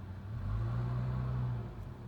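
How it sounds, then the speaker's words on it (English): A USPS delivery truck engine rumbles at a steady low pitch. It swells briefly as if revving, then settles and fades slightly, heard from moderately far away with no talk. "engine from the USPS truck. That was an interesting sound."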